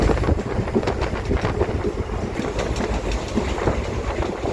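A train rumbles along the tracks with continuous rhythmic clatter and wind noise, loud and steady, no voices.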